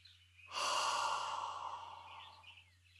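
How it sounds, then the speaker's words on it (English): A long, deep exhale lets out a single breath, starting abruptly with a broad breathy rush that slowly fades over a couple of seconds, close and alone. "Take a deep breath in."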